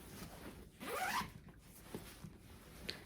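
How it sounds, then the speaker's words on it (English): A zipper on a purse is drawn open in one long rising pull, with a few light rustles and a short clink of hardware afterward, close and clear. "It does have your top zip here."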